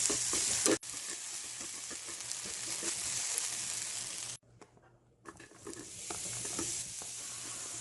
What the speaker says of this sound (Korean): 양파는 그냥 기름에만 살짝 볶아주세요.